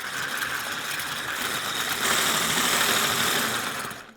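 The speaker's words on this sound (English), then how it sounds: "Whisk this through until we get soft peaks" Egg whites with cream of tartar whisked toward soft peaks, probably with an electric mixer, giving a steady whirring, rattling drone that grows slightly louder midway and stops at the end, with no voices.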